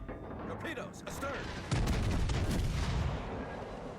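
Heavy naval guns, 15-inch battleship guns in World of Warships, fire in a deep booming blast partway through, then rumble on amid sea and battle noise with crackling shots before it.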